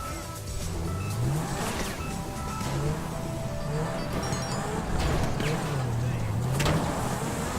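A car in a video game drives and accelerates, its engine revving up and down in repeated rising sweeps under steady road noise, loud and close throughout.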